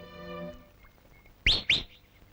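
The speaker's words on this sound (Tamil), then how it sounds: "காலங்காத்தால விசில் அடிச்சுட்டு" Two sharp, loud rising whistles from a person in the early morning, close together and alone, after a fading steady tone.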